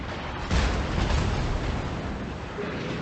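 Enemy battleship secondary guns fire in World of Warships, a dense rumbling barrage of booms and blasts close by, steady and loud throughout.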